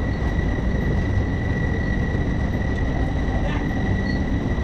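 A train pulls out of Bhadrak station, heard from on board as a continuous low rumble and rattle of the carriages with a steady high whine above, loud and unbroken, with no voices.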